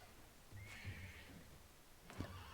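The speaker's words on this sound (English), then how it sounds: "Oh, we've got a wild horse here." A wild horse in the survival strategy game Dawn of Man whinnies faintly, with two distant neighs over a low, steady game ambience.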